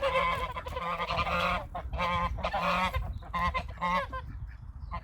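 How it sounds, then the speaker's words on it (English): Geese on a wildlife pond in the UK give loud, close honking calls in rapid bursts of several honks each, repeating across the stretch with short pauses between, and no talking. "And now there's blooming waterfowl in it."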